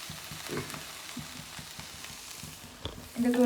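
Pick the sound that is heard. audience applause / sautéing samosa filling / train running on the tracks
sautéing samosa filling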